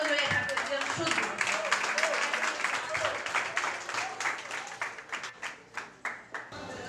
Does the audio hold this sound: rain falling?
no